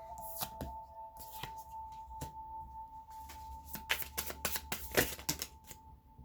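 Tarot cards are shuffled and laid down in a quiet room, giving irregular bursts of crisp riffling and slapping card sounds at close range over a faint steady hum.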